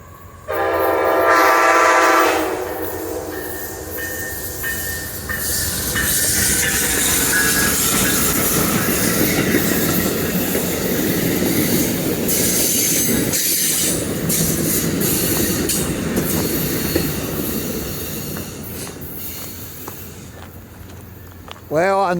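An Amtrak passenger train with a new locomotive sounds its horn loudly, then rumbles past close by for a long stretch around a curve at Thurmond, West Virginia, wheels squealing near the end, with occasional voices.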